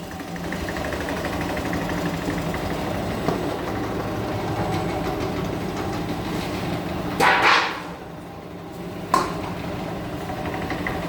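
A small atta chakki flour mill motor runs with a steady, loud mechanical hum and drone, broken by a brief clunk near the middle and another sharp knock shortly after, with no voices.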